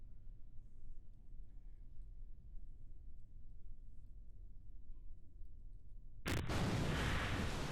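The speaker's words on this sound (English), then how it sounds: "Oh, and we still had some exploding parts." Rocket parts exploding in Kerbal Space Program: a quiet low rumble runs for several seconds, then one sudden loud burst erupts and lingers as a broad roar at the very end.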